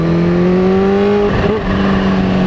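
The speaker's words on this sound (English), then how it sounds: "what his exhaust sounds like as I went by him" A Kawasaki Ninja H2 fitted with a Vandemon aftermarket exhaust accelerates past in first gear, giving a loud, steady engine drone whose pitch climbs gradually, with a brief swell as it goes by.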